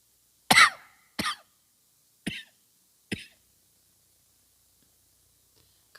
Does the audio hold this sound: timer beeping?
no